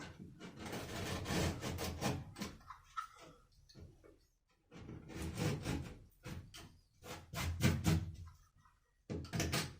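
Rough, rasping strokes of a blade sawing through drywall paper, coming in several bursts with brief pauses, close and moderately loud.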